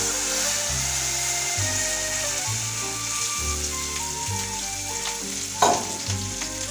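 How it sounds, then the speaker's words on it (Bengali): Water poured into fried spices in a pan for a thin curry of catla fish with eggplant, setting off a loud, steady sizzle up close, with a few light knocks and a brief clatter partway through. "এবার জলটা ছেড়ে দিচ্ছি ঝোলের জন্য"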